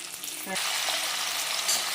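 Green chillies and cooked rice sizzle loudly in a hot pan for lemon pulihora, with a steady crackling fry and a brief stirring scrape at the start.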